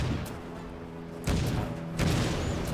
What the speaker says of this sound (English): look how beautiful that explosion was